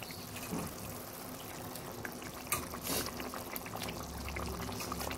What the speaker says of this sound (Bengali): জলটা সুন্দর ফুটে এসেছে। এবার এক এক করে মাছগুলো দিয়ে দিচ্ছি।